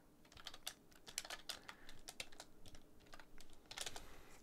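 Code is typed on a computer keyboard in quick, uneven runs of sharp, close keystrokes, fairly faint overall, with brief pauses and no talking.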